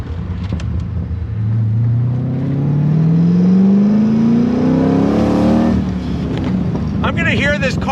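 A Chevrolet C2 Corvette restomod's engine revs up while driving, a deep rising rumble climbing steadily in pitch, then easing off as a voice cuts in near the end.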